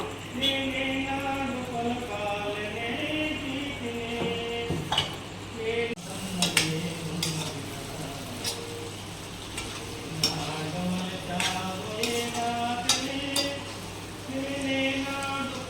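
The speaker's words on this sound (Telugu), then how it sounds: "అప్పటిదాకా మనం వేయించుకోవాలి" Chicken fry with dry coconut powder sizzles steadily in a pan while a spoon scrapes and turns it in repeated close strokes, with a person talking over the frying.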